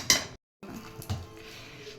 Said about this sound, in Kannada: ಪಾತ್ರೆನಲ್ಲಿ ಶಿಫ್ಟ್ ಮಾಡ್ತಾ ಇದ್ದಾರೆ ಅಮ್ಮ, ಪಾತ್ರೆಗೆ ಹಾಕ್ಕೊತಾ ಇದ್ದಾರೆ